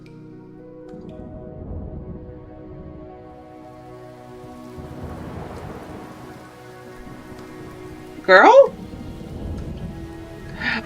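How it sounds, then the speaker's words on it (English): Rain falling steadily in a TV drama scene, with a brief sharp burst near the end that may be a thunder crack, while a person speaks softly over it. "Okay, it's raining."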